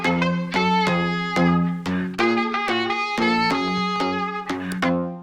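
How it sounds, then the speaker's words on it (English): Rich synthesized chords played as accompaniment for a sax riff in a production, a sequence of sustained, harmonically dense stabs changing every beat or so, loud and close with no voices. "Now I created chords that would go with our sax riff."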